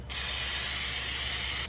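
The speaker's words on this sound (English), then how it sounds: "So first I'm going to spray a little bit of canola oil spray." A single short burst of canola oil cooking spray misted into a pan while making chili, a close, even hiss lasting under two seconds, with no talking.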